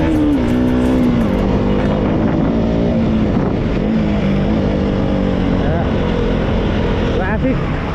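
Road traffic passes while riding a motorbike: a loud, continuous engine drone with shifting pitch and heavy wind buffeting, with someone talking over it.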